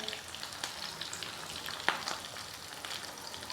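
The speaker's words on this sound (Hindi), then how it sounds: "ये देखें ये सभी साइडों से अच्छी तरह से फ्राई हो चुके हैं।" Vegetable seekh kebabs fry in a shallow pan, a steady faint sizzle with occasional soft clicks as they are turned, one sharper tap near the middle, no voice.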